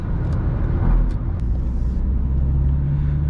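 Steady low road roar of a Toyota Auris 1.4 D-4D rolling over hot asphalt, heard from inside, continuous and fairly loud with no voices.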